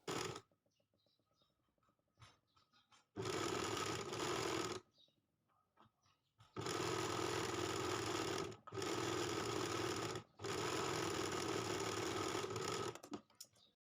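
A sewing machine stitching old saree fall borders onto fabric, running in several loud sustained bursts separated by quiet pauses with faint handling noises between them.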